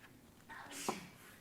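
A single quick, faint sneeze bursts out in a quiet room.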